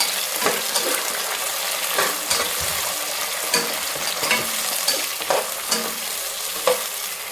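Onion, green chili and tomato frying for a fish curry, with a steady sizzle broken by repeated sharp scrapes and taps of a spoon stirring the pan, close and without speech.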